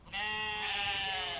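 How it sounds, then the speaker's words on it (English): A single loud sheep bleat, close and sustained for over a second, clear with no other sound around it. "Are those sheep?"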